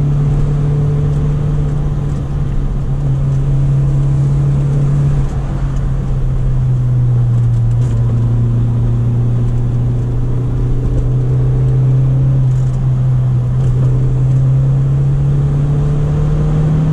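Onboard sound of a 1995 Audi with a manual gearbox on a test drive, its engine droning steadily and close, the pitch dipping and climbing through gear changes, with no talk.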